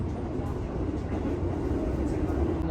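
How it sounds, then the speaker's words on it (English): A moving train in Japan carries passengers along with a steady, dense low rumble and hiss that stays constant throughout the short stretch. "We're on the train right now"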